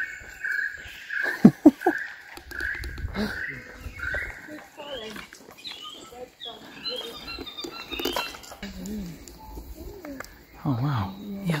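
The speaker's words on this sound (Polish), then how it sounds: "Ale ptaki słychać fajnie." Birds, likely pigeons or doves, coo and chirp intermittently at moderate distance while people talk loudly over them throughout.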